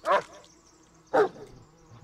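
Two loud, close single barks from a dog in the Blair Witch video game, spaced about a second apart against a quiet background.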